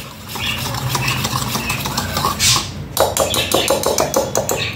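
A spoon stirring and scraping through a cup of flour with a large spoon of baking powder and a pinch of salt in a bowl, steady rhythmic clinking strokes close by, sounding quicker and sharper toward the end, with no talking.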